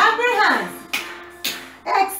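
Children clapping along to a sung nursery rhyme in a preschool class, two or three sharp hand claps breaking through a loud singing voice.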